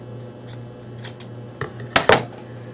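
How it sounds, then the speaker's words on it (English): Scissors snip a small piece of green material for a fall scarecrow ornament craft: about five short, crisp cuts, sparse at first, with the two sharpest snips close together near the end against a quiet hum. "I'm going to cut a little piece of green"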